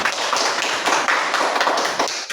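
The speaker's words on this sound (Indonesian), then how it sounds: "kepada kelompok 1 kita kasih tepuk tangan" A classroom of students claps for a group that has just presented, a close, brisk patter of hands with uneven bursts, lasting only a couple of seconds with no talking.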